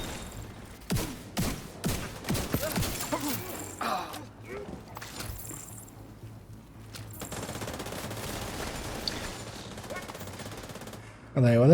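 In a video game, an enemy's light machine gun fires in quick bursts of rapid shots early on, followed by quieter background game noise as a player talks over it.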